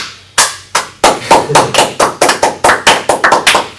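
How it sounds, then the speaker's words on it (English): A small group claps at a steady rhythm after a staged Frasier scene, about a dozen close, sharp claps in sequence with no talk. "How you guys clapping?"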